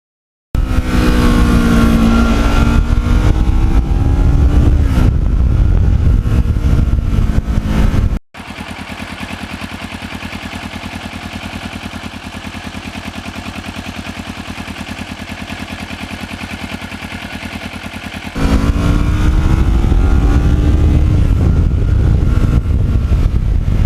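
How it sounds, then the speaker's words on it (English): Restored black Kawasaki Ninja with an uneven-firing twin engine, loud and close: a revving, lumpy exhaust note at the start, then a steadier muffled running stretch, then the revs climb again. "this bike sounds very nice. It's an uneven firing twin"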